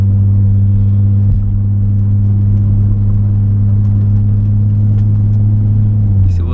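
A 2005 Mercedes SLK with a 3.5 V6 engine cruising gently through the city, a loud, close, steady low engine drone and rumble throughout with no talking.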